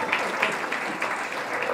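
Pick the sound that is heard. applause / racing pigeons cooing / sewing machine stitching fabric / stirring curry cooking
applause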